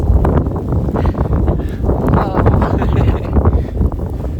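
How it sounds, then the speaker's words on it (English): Strong gusting wind during a March blizzard at a Rocky Mountains winter cabin, a loud, continuous rushing roar buffeting the microphone with low rumble throughout, with no talk. "the wind's picking up"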